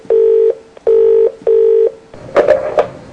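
A telephone call goes out: three steady, evenly spaced ringback tones sound close and clear, followed by a short clatter as the line is picked up.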